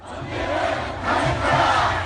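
A large crowd at a candlelight rally calling for impeachment roars in a sustained mass shout, two swelling waves of voices heard from a distance with no single speaker standing out.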